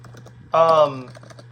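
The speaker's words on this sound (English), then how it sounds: "if you guys hear my typing and everything, it's my computer" Light computer keyboard typing clicks under a constant low electrical hum, with a brief burst of voice partway through.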